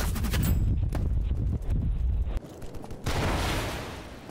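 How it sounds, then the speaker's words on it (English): Gunfire in the video game BattleBit Remastered, loud rapid bursts of automatic fire and heavy impacts, dense and close, shifting into a rushing noisy blast near the end. "Where are these boys shooting from?"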